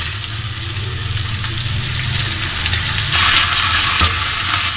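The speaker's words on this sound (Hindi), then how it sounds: "प्याज थोड़ी सी नरम हो चुकी है तो मैं इसमें कीमा शामिल कर रही हूँ।" Minced beef sizzling with softened onions in a hot pan, a loud steady frying hiss that briefly swells brighter as the mixture is stirred, close and continuous without speech.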